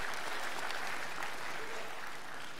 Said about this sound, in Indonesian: Tepuk tangan buat Dewa Eka Prayoga.